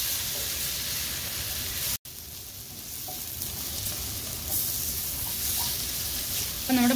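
Masala spice powders stirred and sautéed in a hot pan for a beef bone curry, giving a steady close sizzle with faint scraping, broken by one brief silent gap and a quiet clink near the end.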